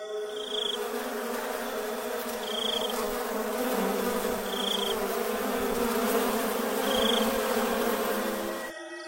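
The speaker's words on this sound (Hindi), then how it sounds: "उस कुटिया में काफी गंदगी होती है, जिस पर मक्खियां भिनभिना रही होती हैं।" Flies buzzing steadily around a filthy hut as a horror-story effect, a continuous droning hum with several insects close by and occasional louder passes, no talking.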